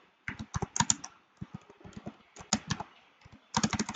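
Fast typing on a computer keyboard, a dense run of close clicking keystrokes in bursts with brief pauses, steady and clear with no voices.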